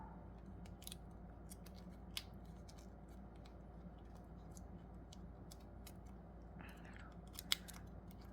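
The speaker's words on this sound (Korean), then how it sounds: "그 다음에 이 부분을 안으로 넣어서 접어주세요." Paper being creased and folded while shaping an origami lion, a few faint crinkles and sharp little clicks over a steady low hum, quiet and close.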